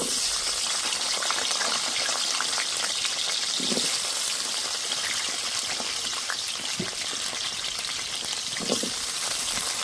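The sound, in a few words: potatoes frying in oil left from frying paneer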